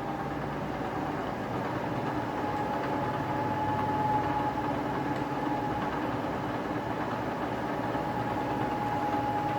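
A milling machine runs steadily with a smaller-diameter cutter at about 1100 RPM while machining 90-degree V slots in a V block, giving a constant mechanical hum with a thin tonal whine, moderately loud and unbroken.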